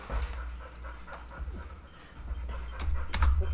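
A dog pants steadily and close by, quick rhythmic breaths with faint whimpers, fairly quiet indoors with no talking.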